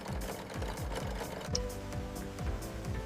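Industrial walking-foot sewing machine stitching dense multi-layer banana fiber ply in a factory, running continuously with a fast, steady mechanical chatter and rhythmic thumping of the needle and feed, close and unbroken throughout.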